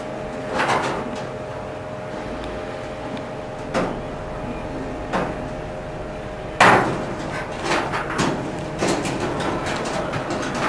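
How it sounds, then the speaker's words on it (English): Clecos being pushed into drilled holes in boot cowl sheet metal give a few sharp, scattered metallic clicks and snaps over a steady background hum, with no talking. "Put cleco in it. Another one on the other side."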